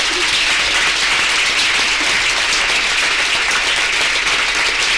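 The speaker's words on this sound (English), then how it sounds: "Please give her a round of applause." Audience applause at a talk session, a steady dense wash of clapping that fills the whole stretch at an even level with no voices over it.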